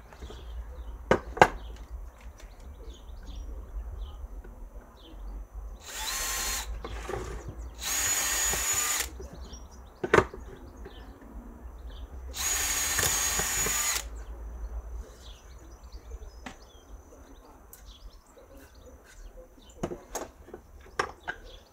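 A power drill whirs in a few separate bursts, boring holes through wood for a beginner woodwork project, with knocks and handling clatter between the runs and little talk.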